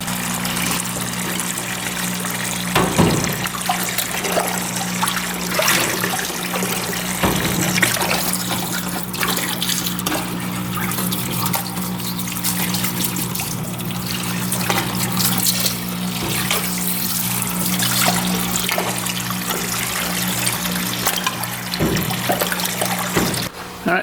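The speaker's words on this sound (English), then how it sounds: "So we are going to clean this thing up in the parts cleaner." Steady splashing and trickling liquid over a constant pump hum comes from a parts cleaner as a 1989 dirt bike cylinder is washed, loud and continuous throughout.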